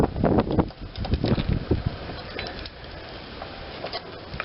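Gusty wind rumbles and buffets the microphone outdoors on a breezy day in Aurora, Colorado, at a barbecue smoker, strongest at the start and easing into a steady low rush.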